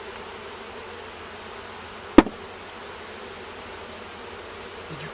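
Honey bees drone steadily around an opened hive during a spring inspection, a continuous close buzz broken by one sharp knock, with no talking.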